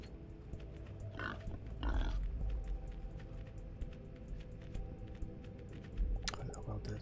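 Pigs grunting in the game Wasteland 3, a few short snorting grunts over a low ambient bed with clicking noises, faint and intermittent, with a voice talking in places.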